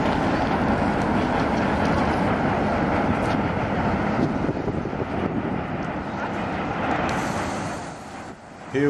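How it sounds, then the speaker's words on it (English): A continuous loud rumble and clatter of a Brooklyn-bound subway train rolling across the lower level of the Manhattan Bridge, steady throughout and easing slightly near the end. "Here we see a Brooklyn-bound subway train on the lower level of the Manhattan Bridge."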